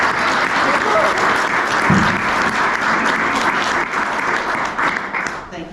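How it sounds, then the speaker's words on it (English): Audience at a history awards night applauding students, a dense, steady round of clapping from a crowd filling the room, sustained throughout and fading slightly at the end. "would you mind very much standing up so we can give you an applause?"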